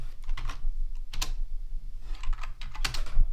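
Quick bursts of keystrokes on a computer keyboard as ABAP code is typed, irregular clusters of clicks close to the mic with short pauses between them.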